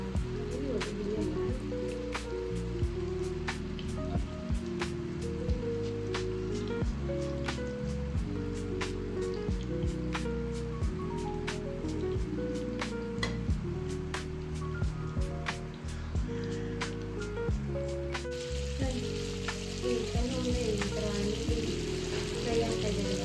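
Chicken keema frying in oil in a pan at home, a steady sizzle running the whole time beneath prominent background music.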